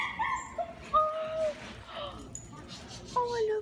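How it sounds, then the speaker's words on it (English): Dog yips and whimpery barks from a puppy in a Sims video game come in short bursts, close by, mixed with people talking and laughing over them. "You keep getting scared every time he barks."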